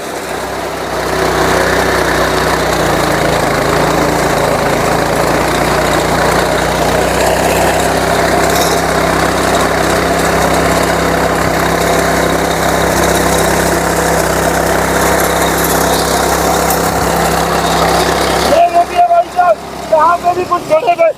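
Wheat reaper machine running in second gear while harvesting, a loud, steady engine drone with mechanical vibration that holds evenly throughout, with a brief rattling change near the end.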